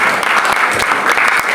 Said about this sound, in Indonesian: Tepuk tangan yang luar biasa bagi mereka.